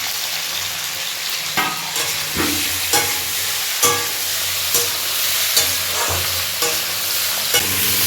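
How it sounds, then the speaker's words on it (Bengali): Spinach, tomato and eggplant fry in a pan with a constant sizzle, while a spoon scrapes through them in regular strokes about every second. No one talks. "তোমরা দেখতে পাচ্ছ এখানে সবজিগুলো বেশ ভাজা ভাজা হয়ে গেছে"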